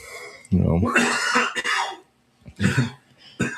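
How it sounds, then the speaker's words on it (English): Several harsh, close coughs in quick bursts, with a brief pause between fits. "coughing like crazy"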